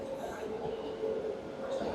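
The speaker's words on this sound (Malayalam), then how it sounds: "അങ്ങനെ ട്രെയിൻ എത്തി" Low rumbling of a train arriving at a station, with a steady mechanical drone and faint high squeal, continuous over a short stretch.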